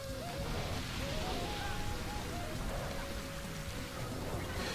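Steady rain hiss from the Rain Dance move in the Pokemon Colosseum video game, a continuous even wash of falling drops with faint tonal game music running underneath.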